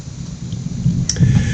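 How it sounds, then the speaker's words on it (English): A low rumble of thunder rolls in and grows slightly louder toward the end, with a faint hiss like rain behind it. "it's thundering outside"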